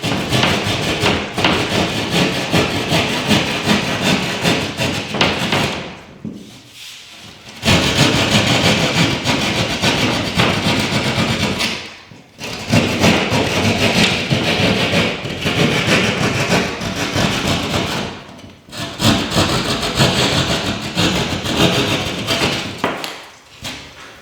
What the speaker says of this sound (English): And then with the saw, just clean it up a little bit.